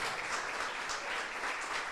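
Church members clap together in worship, producing a thick, continuous roar of applause that holds level for the whole moment, with faint voices buried underneath.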